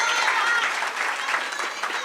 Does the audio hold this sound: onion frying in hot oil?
no